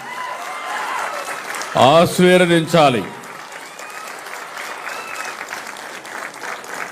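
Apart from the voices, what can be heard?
audience applause at a speech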